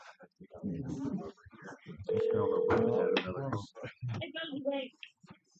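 A conference phone on speaker during a commission meeting sounds a steady electronic tone lasting about a second, surrounded by close conversation.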